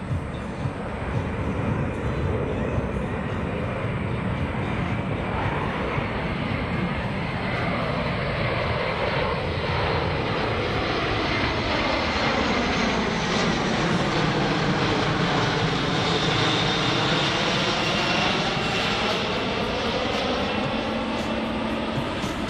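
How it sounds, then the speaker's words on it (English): A Boeing C-17 military cargo jet roars steadily over an airfield while flying steep bank turns, its engine tone sweeping and shifting continuously as it circles at low speed, loud and sustained with no speech. "The aircraft is performing a series of steep bank turns to maneuver for a low-speed pass and circle over the airfield."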